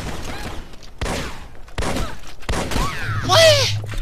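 Rapid gunfire in the Microvolts shooter game, several loud bursts of shots in quick succession with whooshing effects and a rising electronic tone near the end, with a voice speaking faintly underneath.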